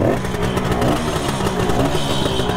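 A 1973 Kawasaki S2A 350 two-stroke triple motorcycle runs close by with a loud, buzzing, crackling idle and rising revs after being kick-started.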